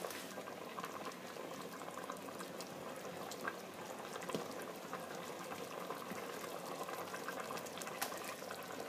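Octopus stew with potatoes, peas and a little paella colouring, covered in water, bubbles at a steady rolling boil in a pot, a continuous close busy burble of popping bubbles with small splashes and no voices.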